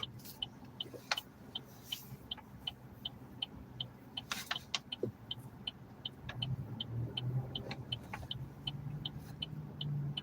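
A car drives through small-town streets in Hornell, New York, its steady low road rumble and engine hum continuous throughout, with a regular ticking, likely a turn signal, and occasional bumps and clatters.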